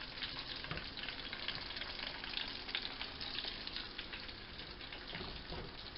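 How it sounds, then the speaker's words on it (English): Bacon frying in a pan gives a steady, close sizzle with soft crackles and pops throughout, no talking. "So we got the bacon heating up pretty good."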